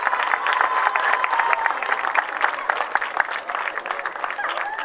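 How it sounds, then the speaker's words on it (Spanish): An outdoor crowd at a chilena music contest in Ometepec claps to send off a music group, with applause under overlapping voices and light cheering. "Fuerte los aplausos para despedir a este bonito grupo musical."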